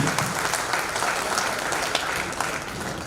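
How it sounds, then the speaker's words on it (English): Audience applause filling a hall at a corporate golden jubilee lecture event, dense and steady clapping throughout with no pause. "a big round of applause for CHRD"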